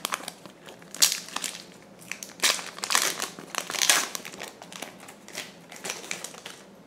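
Close, crisp crinkling of a Stranger Things trading card pack wrapper being torn open from a blaster box, in repeated uneven bursts with short pauses and no talking.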